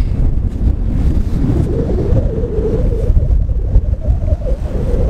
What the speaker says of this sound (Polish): Bardzo silny wiatr.